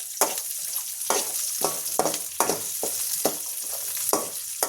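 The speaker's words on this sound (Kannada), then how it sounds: "ಇವೆಲ್ಲವನ್ನು ಹಾಕಿ ಒಂದ್ಸಲ ಎಣ್ಣೆಯಲ್ಲಿ ನಾನು ಫ್ರೈ ಮಾಡ್ಕೊಂಡ್ಬಿಡ್ತೀನಿ" Vegetables fry in oil for a restaurant-style saaru, a steady close sizzle broken by about nine sharp scraping stirs of a spoon at roughly half-second to one-second intervals, with no voices.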